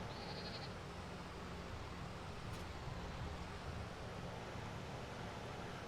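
Sheep bleat on a farm in the Farming Simulator 19 video game, faint calls over a steady wind-like ambient wash that runs throughout.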